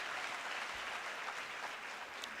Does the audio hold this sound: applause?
yes